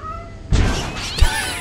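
A cat in a modded Lethal Company game gives two loud, close meows in quick succession, the first longer and the second shorter, over a quiet background.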